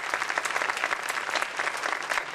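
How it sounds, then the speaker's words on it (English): Commencement audience applauding at Santa Catalina's 2011 ceremony, a dense, steady wash of many hands clapping that sounds fairly near and continues without talk over it. "let's give them a round of applause again."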